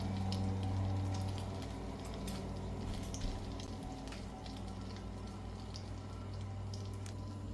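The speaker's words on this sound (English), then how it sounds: "It's sizzling." A keto Frisco burger patty sizzles and crackles in a greasy pan, a faint steady frying hiss with scattered pops and no talking.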